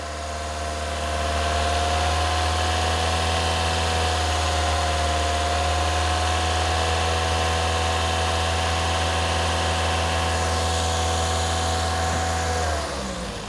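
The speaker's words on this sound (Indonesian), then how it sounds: "sekarang kita coba dinaikkan RPM-nya ke 2500" A 2010 Toyota Vios automatic engine is held at a raised 2500 RPM, giving a loud, steady, close hum with a constant low drone and vibration that drops away near the end.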